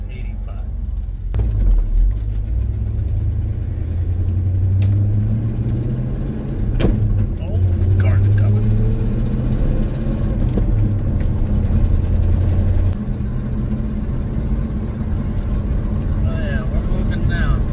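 A 1980-86 Ford bullnose truck cruises along a road, its engine a steady low rumble with shifting drone throughout, interior road noise constant and a voice talking intermittently over it.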